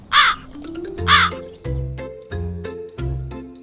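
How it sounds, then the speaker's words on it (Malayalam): A cartoon crow caws twice in a kids' animation story, each loud, harsh call about a second apart, followed by light background music tones. "കാടിനടുത്തുള്ള ഒരു വലിയ മാവിന്റെ മുകളിൽ കാർത്തു എന്നൊരു കാക്ക താമസിച്ചിരുന്നു"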